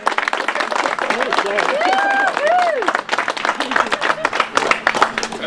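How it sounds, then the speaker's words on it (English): A live audience applauds at a community event, with dense, steady clapping throughout and a speaking voice running over the top of it. "I think she deserves a round of applause for her efforts"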